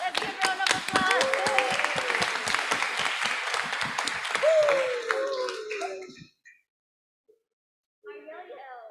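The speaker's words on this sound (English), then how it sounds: "Let's give a round of applause." Crowd claps and cheers at a university freshman campus event, rhythmic clapping under shouting voices for about six seconds, then silence and a short spoken line.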